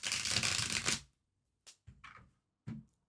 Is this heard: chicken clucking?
no